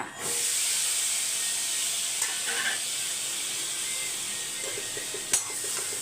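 Small and large onions frying in a pan give a steady, close hiss of sizzling oil, broken by a few faint clicks of stirring.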